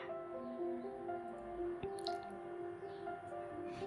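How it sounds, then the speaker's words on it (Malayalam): Jaggery syrup is poured over peeled mangoes in a clay pot, giving soft close drips and squishy liquid sounds over a steady low background, with no talk. "ഇനി തോല് കളഞ്ഞെടുത്ത മാമ്പഴത്തിന് ഒരു മൺചട്ടിയിലേക്ക് ഇട്ട് കൊടുത്ത ശേഷം ശർക്കര പാനി ഒഴിച്ചു കൊടുക്കാം"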